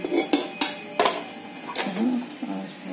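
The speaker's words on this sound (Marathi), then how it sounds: "आता हे भांडं ह्याच्यावर ठेवते" Metal pots clank and clink as a vessel is set inside a pressure cooker, several sharp knocks and scrapes close by, with a brief murmur of speech between them.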